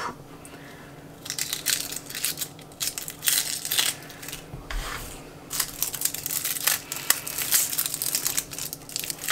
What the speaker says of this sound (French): Je vais m'occuper des échalotes. Je vais les peler et puis les émincer en petits morceaux.